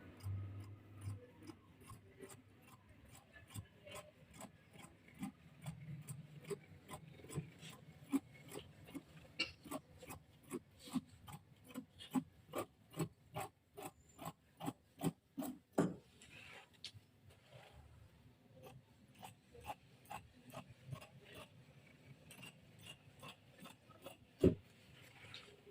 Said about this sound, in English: So go ahead and cut it out. So I'll be cutting on my markings.